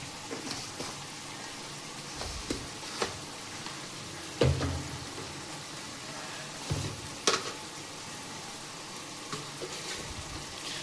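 Tempering spices sizzle quietly in hot oil, with scattered clinks and scraping of a spoon against the pan; no voices.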